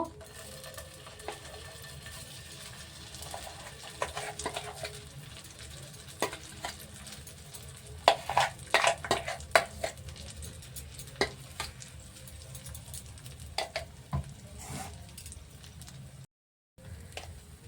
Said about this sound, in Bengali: একটু ঘি দিয়ে দিলাম এবার ডালটা আমি ওর মধ্যে ঢেলে দেবো